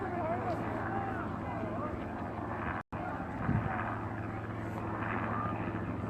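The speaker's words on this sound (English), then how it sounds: "being videoed above right now by a helicopter" A police helicopter flies overhead at Standing Rock, its steady rotor drone running beneath people talking nearby, with a brief dropout partway through.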